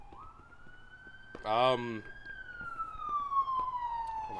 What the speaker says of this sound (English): Ambulance. That's not the kind of trouble that I want to see out my window.